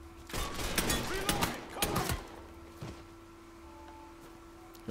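Bursts of gunfire from a shootout in the video game Mafia III crack out close and loud over the first two seconds, with a few scattered shots following before things go quiet. A voice talks under the opening shots.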